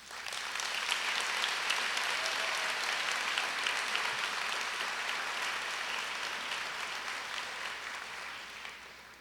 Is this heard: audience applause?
yes